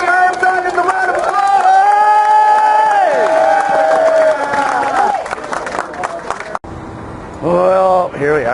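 Loud outdoor protest crowd in Lansing cheering and shouting with sustained, overlapping voices and whoops, then a brief drop before another burst of cheering near the end.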